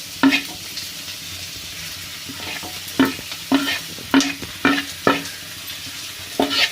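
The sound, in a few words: stirring egg puff masala filling in a pan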